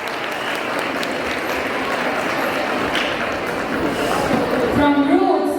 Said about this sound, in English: please give a thunderous applause for the symphony of nature